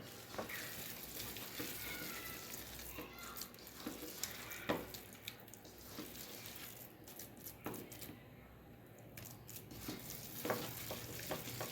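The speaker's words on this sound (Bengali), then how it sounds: "আর এটাকে এইভাবে ভালোভাবে কিন্তু আমি মেখে নিচ্ছি" Sliced potatoes are worked by hand into gram flour (besan) for pakoras, a close, soft, wet squishing and rustling with scattered sharper clicks and no speech.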